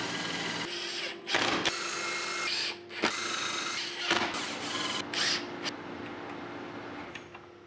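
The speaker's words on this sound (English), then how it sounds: "now I'm gonna drill and screw it to the table of the Avid CNC" A power drill whirs in repeated bursts, drilling and screwing acrylic to a CNC machine table, starting and stopping with short pauses, close and loud, alongside steady machine hum.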